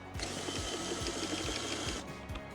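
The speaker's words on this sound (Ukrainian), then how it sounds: "Ставимо ключ на опору, фіксуємо його, беремо шуруповерт" A cordless screwdriver turns a mounting key on an adjustable terrace support, giving a close, steady ratcheting whir with regular clicking pulses for about two seconds before it stops.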